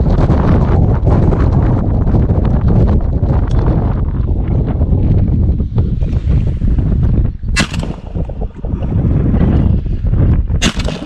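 Strong wind buffeting the microphone outdoors during a windy morning duck hunt, a loud continuous rumble and roar with gusty bursts throughout and a couple of brief sharp hisses.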